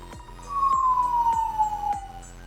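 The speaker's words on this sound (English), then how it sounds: "Ugh, sirens killing me." An emergency siren wails close and loud, a long falling tone repeated in a steady cycle, with no talking.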